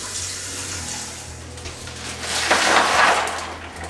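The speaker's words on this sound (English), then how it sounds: "we'll fill it full of water, or put some more water in there" Tap water runs steadily into a turkey brine container holding ice, a continuous wash that swells louder toward the end, with no talking.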